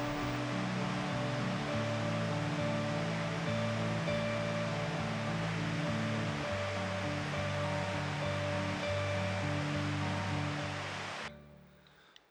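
Steady broad wash of ocean surf and wind rolling past a cruise ship's open deck far out at sea, with a low rhythmic engine hum underneath, continuous and fairly loud before dropping away near the end.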